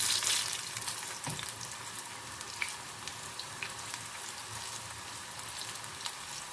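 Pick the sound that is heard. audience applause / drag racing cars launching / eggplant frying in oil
eggplant frying in oil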